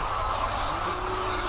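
Caged laying hens at a poultry farm, five birds to a cage, keep up a steady murmur of clucking and low calls across a busy, continuous barn ambience with no pauses.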